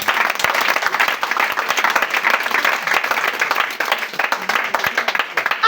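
Applause from a church congregation at a French-language worship service, steady dense clapping filling the space throughout, loud and close.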